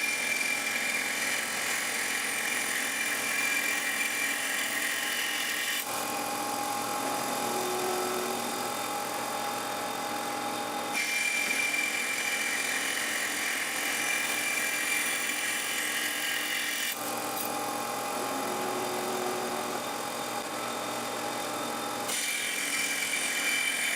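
An automated band saw slices thin slabs, about fifty thousandths of an inch thick, from a solid block of Wenge wood. The cutting noise is loud and continuous, and its tone shifts every several seconds as each new pass begins.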